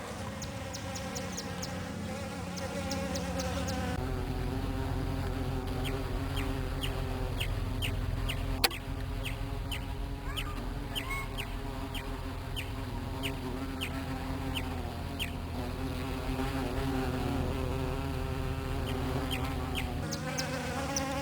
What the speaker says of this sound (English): That's okay, we like bees around here.